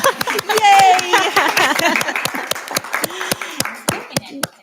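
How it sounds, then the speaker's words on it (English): Audience at a school district board meeting clapping in sharp, scattered claps that carry through the whole stretch, while voices and a tonal sound blend underneath early on. "I feel like that deserves a round of applause."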